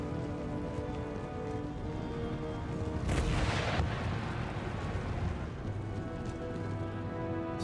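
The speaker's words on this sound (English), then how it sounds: "artillery from the fort's just shredding them" Fort artillery firing on advancing troops in Empire: Total War, a dense rumbling barrage with crackling impacts under a steady battle din, swelling into a louder rush midway, heard from a distance without talk.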